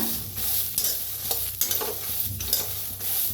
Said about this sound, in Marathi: कढाई पहिला आपण ह्याला भाजून घेऊया मग धुवून घेऊया